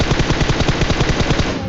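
Rapid automatic gunfire from a PUBG Mobile match, a loud, steady stream of closely spaced shots rattling continuously through the short moment with no talk over it.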